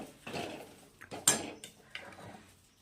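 Spoon clatters and scrapes against a metal pot while mixing a spicy stuffed brinjal curry with masala, several clinking knocks spread across a short stretch with no talk.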